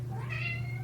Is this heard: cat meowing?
yes